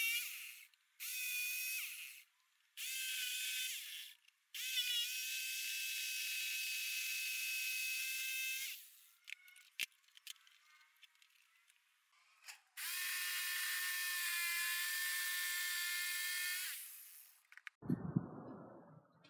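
A router cuts out a section of a one-piece wooden tray in several whining, high-pitched bursts separated by pauses and small clicks, ending with a short clatter near the end.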